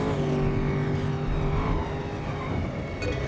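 Race car engine from the Cars 3 video game, a steady loud drone with a continuous tonal whine and no clear pauses, holding near and constant throughout.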